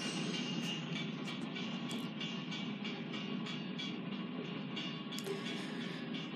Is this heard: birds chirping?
no